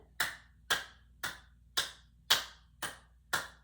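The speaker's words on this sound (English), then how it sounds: "Clapping again." Seven sharp hand claps land at an even, unhurried pace, each crisp and fairly close in a quiet room, with no voices.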